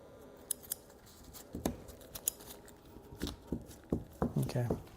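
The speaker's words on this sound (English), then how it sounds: "You may need to actually take some trimmers and trim up this right here." Trimmers snip edge trim on an acrylic panel frame, a series of sharp, close clicks and cuts spaced irregularly, getting quicker toward the end.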